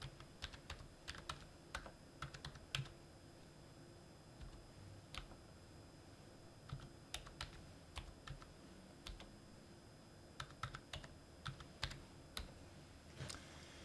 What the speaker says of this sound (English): I'll type in the word sales, and then at random I'll just type in a few sales.